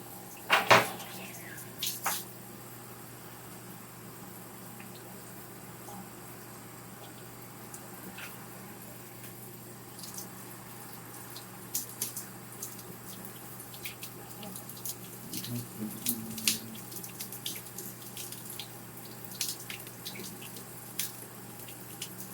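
Water from a bathroom tap runs steadily while a face is rinsed after a shave, with scattered clinks, drips and splashes over a faint, continuous flow.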